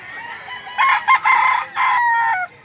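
Rooster crowing at a chicken market in Lipa City, Batangas, with two or three loud, close crows in quick succession over a low market murmur.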